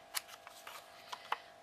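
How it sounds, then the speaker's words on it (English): Scissors snipping a V-shaped cut into the covering on a book, several short, crisp snips spread irregularly over a quiet background, soft and close. "take your scissors and you make a V-shaped cut here"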